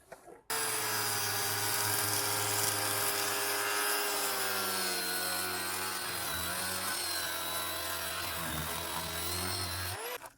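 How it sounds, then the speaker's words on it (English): An angle grinder cuts through old scrapped medical equipment with a loud, sustained high-pitched whine and metallic screech for about ten seconds, starting and stopping abruptly, close with no talking. "I think I'm going to just try cutting it straight down the middle"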